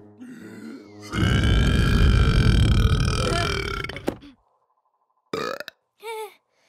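A long, loud, deep burp rumbles for about three seconds, followed by a couple of short vocal sounds after a pause.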